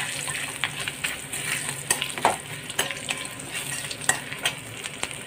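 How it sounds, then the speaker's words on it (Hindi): Garlic and curry leaves fry in hot oil while a spoon stirs them, giving a steady close sizzle broken by repeated sharp scrapes and clicks of the spoon against the pan. "फ्राई किया हुआ तेल में मैंने करी पत्ता डाल, अभी डालूँगी 2 फ्रेश किया हुआ लहसुन। इसको थोड़ा चम्मच से ऐसे कर लेंगे।"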